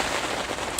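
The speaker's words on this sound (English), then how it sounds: "keep the rain out, because it's blowing in towards the bivvy" Rain blows against a fishing bivvy, a brief patter of drops striking the shelter's fabric, close and fairly loud with a scattered crackling texture and no talk.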